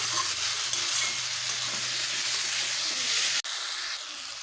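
Vegetables for a light fish curry sauté in a pan, a loud, dense frying hiss with a faint low hum that cuts out briefly near the end, then settles into a slightly quieter sizzle.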